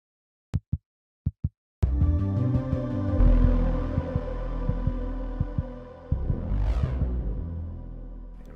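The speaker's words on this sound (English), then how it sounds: "this is what it should sound like with the other massive trans pad" A few short low thumps, then a lush sustained trance synthesizer pad in GarageBand swells in, recreating the Stranger Things theme, holding rich chords with pulsing bass underneath and a rising sweep near the end.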